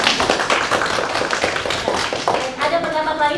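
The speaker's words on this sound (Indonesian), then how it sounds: "Tepuk tangan dulu buat Pak." Students in a university classroom teaching session clap together in a brief round of dense, close applause, and a voice speaks as the clapping ends.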